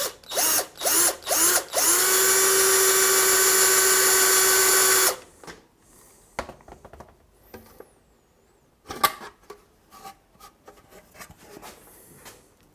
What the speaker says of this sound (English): Now I drilled the hole a little bit smaller,